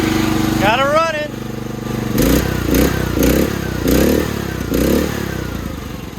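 A Chinese-made mini excavator's small engine runs close by, chugging steadily with a few louder rhythmic surges, after a brief voice at the start.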